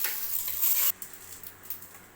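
Tempering sizzles in a pan for idli sambar, a bright crackling hiss that drops off after about a second, leaving faint pops and a quieter fizz close by with no talking.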